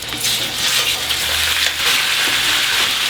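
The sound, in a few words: pork osso buco browning in a hot oiled pan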